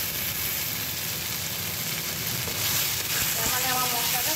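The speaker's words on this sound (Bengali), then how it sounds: "ভালো করে এই মশলাটা কষিয়ে নেব যতক্ষণ না তেল ছেড়ে যাবে।" Spice paste (masala) frying and sizzling hard in oil in a pan while cooking a chicken curry, a steady loud crackle that grows busier and brighter in the last second or so, with no talk.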